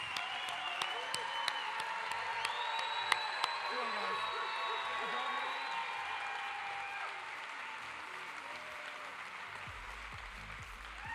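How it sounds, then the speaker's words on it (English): An audience at the Pelotonia Night Of Impact event applauds steadily, with dense clapping sustained for about ten seconds. Sustained music plays underneath the applause. "Please join me, everyone, Pelotonia community, in a huge round of applause for Nolan Wentz."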